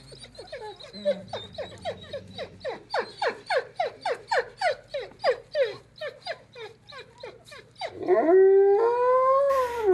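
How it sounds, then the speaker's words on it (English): A wolf at a wolf center lets out a long, wavering howl, a run of rising and falling cries repeated steadily, close and loud, ending in a sustained higher howl joined by other voices. "then Shadow's going to let out a howl, and that's more related to the people than the pups"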